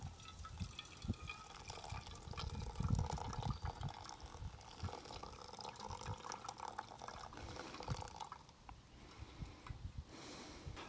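Hot water from a pot is poured over coffee grounds in an off-grid tailgate brew, a soft continuous trickle and splash with small drips, faint and close, with no talking.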